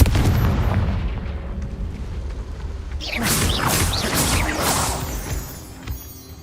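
Confringo explosive spell blasts in the Hogwarts Legacy video game, a burst of booming detonations and crackling debris after a low rumbling stretch, loud and close with no speech over it.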